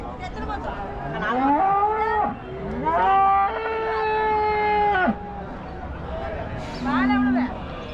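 Dairy cows at the Salem Muthunayakkanpatti cattle market moo several times in long, drawn-out calls, some overlapping, loud and close, with people talking faintly in the background.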